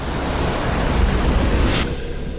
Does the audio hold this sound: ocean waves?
yes